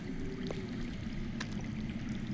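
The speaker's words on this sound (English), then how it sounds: "I hear water. From underground." Underground flowing water in the Game of Thrones Telltale game gives a faint, continuous low rushing trickle with a couple of soft drips, heard alone.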